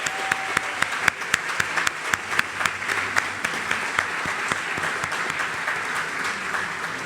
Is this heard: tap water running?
no